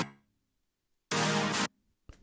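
A brief 80s-style keys chord, a piano blended with a sawtooth synth bass, rings out bright and full for about half a second between near-silent gaps, followed by a quieter fragment.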